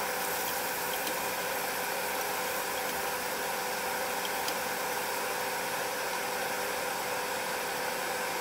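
A noisy exhaust fan runs steadily in a home kitchen where chili-spiced ampalaya is being cooked in hot oil, a constant broadband whoosh with a low hum, no one speaking.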